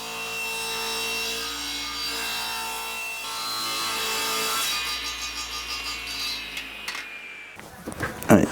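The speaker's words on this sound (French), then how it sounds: "Allez, on va faire la scie." A saw cuts wood for making tilting wooden drawers in a workshop, first as a steady sustained buzz, then as rougher rasping strokes toward the end of the cut.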